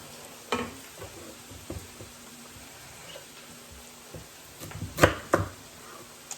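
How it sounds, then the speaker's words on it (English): A dull kitchen knife cuts through potatoes in a few scattered, fairly quiet strokes, with two sharper, louder cuts near the end. "knife needs to be sharpened again. It's kind of tough to cut through this today."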